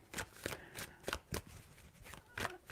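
Tarot cards are shuffled in quick riffling bursts, about eight crisp rustling flutters in under three seconds, close and fairly quiet with no talking.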